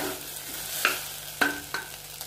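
Ginger and spices mixed in a hot pan, a quiet background sizzle broken by four sharp scraping or clinking strokes of the spoon against the pan, close by, no speech.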